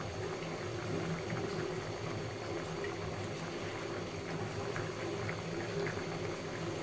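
A fish curry with vegetable stalks and potato simmers in a pan, giving a soft, steady bubbling and gurgling of boiling liquid that stays quiet and close throughout, with no speech.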